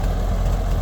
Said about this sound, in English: Wow, yes, it's a nice little tractor.